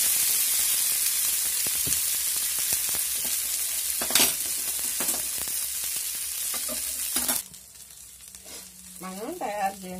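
Maggi noodles tipped into a pan of curry sizzle and fry steadily, with clinks and stirring scrapes over the hiss, then the sizzling drops away to quieter handling noises near the end.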